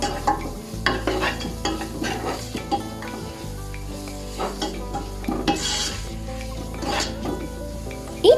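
A spoon stirs spices, turmeric, salt and pepper in a sizzling pan while cooking filling for rolls, with irregular scraping and clinking strokes over a soft, steady frying hiss, close and alone without talk.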